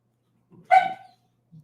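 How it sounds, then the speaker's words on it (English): A stray dog scratching at his ears lets out one short, sharp, high whimpering yelp, close and clear, with faint scuffling just before and after. "My dog hurts himself while trying to scratch his ears."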